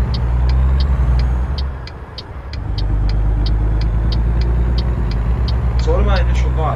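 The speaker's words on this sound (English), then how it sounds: "I'm putting it in second so I keep the truck rolling." Engine of a 1978 Scot A2 HD truck pulling in second gear in American Truck Simulator drones loudly and steadily, with a brief dip in level midway, regular ticking and a chirping sound near the end.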